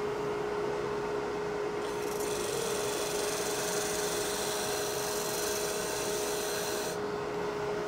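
A wood lathe spins a segmented bowl at about 1300 RPM, giving a steady whirring hum with a constant tone, while a tool scrapes the surface in a continuous rasping hiss, close and even throughout.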